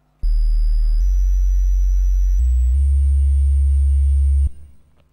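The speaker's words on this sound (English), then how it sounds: "You can have the sine wave." A sine wave preset synthesized on a Commodore Amiga 1200 plays as loud, pure sustained tones that step between a few pitches for about four seconds before cutting off.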